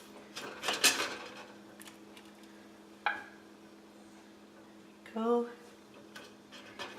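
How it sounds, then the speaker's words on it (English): Home-canned strawberry jam jars with rubber-lined lids sealing as they cool, giving a few sharp isolated pops and clicks spaced seconds apart, close by in a quiet kitchen, with a brief spoken word. "That's the heated air inside the jar contracting, popping down the rubber lined lid with it"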